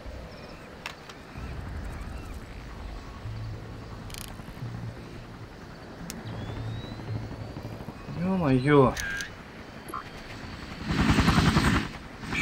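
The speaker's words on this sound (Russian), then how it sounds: "Еще вертушка." Military helicopter in the Far Cry shooter, a low rotor drone swelling in and then louder near the end, mixed with game effects while someone speaks Russian.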